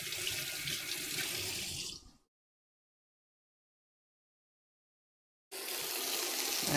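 Garden herbs are rinsed under a running kitchen tap, a steady close gush of water that stops for a few seconds of silence and then starts again.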